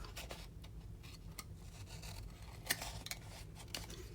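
Scissors cutting paper for a pumpkin papercraft project, a quiet run of soft snips and rustles with one sharper click partway through.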